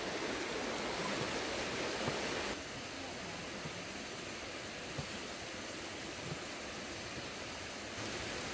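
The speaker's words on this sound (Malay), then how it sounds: "Kuat bunyi dari sungai." Continuous broadband rushing of a flowing river at a campsite, steady and fairly loud, dipping slightly in level partway through before swelling again.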